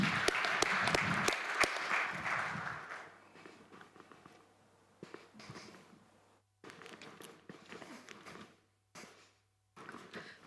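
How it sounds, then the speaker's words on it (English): An audience at a construction-industry summit in the UAE claps for a speaker coming on stage: a loud, dense burst of applause for about three seconds, then it thins to scattered, fainter clapping and shuffling with brief silent gaps. "let's give him a round of applause"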